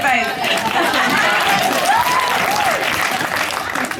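Audience applause during a post-show Q&A for the play Slut at the Hammer Museum, dense and steady throughout with voices and chatter mixed in.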